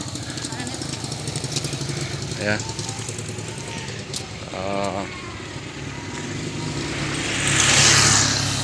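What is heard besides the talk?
motorcycle passing by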